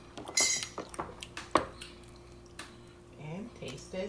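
Utensil stirring sweet potato pudding batter in a bowl, with clinks and soft squishing scrapes of spoon against the dish, fairly close, mixed under occasional talk.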